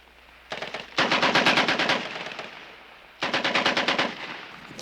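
Automatic gunfire in a historical film scene: two long bursts of rapid machine-gun fire, the first stuttering in before a sustained volley, then a pause and another loud burst.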